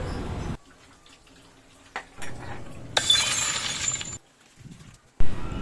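A drinking glass falls and shatters near a small kitchen sink, a sudden bright burst of breaking glass with tinkling fragments, set among brief bumps and quiet gaps.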